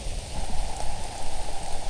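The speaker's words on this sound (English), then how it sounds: "it's still thundering and raining" Rain falling outside a cave entrance during a thunderstorm in Alabama, a dense steady hiss of drops on surfaces close by, continuous with no voices.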